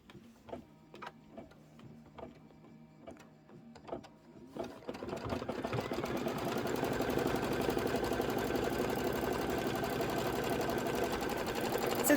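A home embroidery machine stitches a Santa cinch sack in white thread; a few soft ticks give way to a steady, loud mechanical whirring and rapid stitching that runs on alone.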